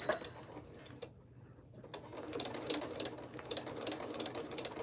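A sewing machine stitches through thick fun fur in quick, rhythmic bursts of needle clatter, pausing briefly near the start before running on steadily, close and moderately quiet, with no voices.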